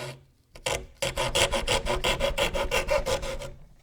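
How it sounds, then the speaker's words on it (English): A handsaw cuts through wood for a rocking chair template, a steady run of about a dozen rasping strokes in a quick even rhythm. The sawing is close and loud, and no voices are heard. "we're going to go ahead and get it with the handsaw"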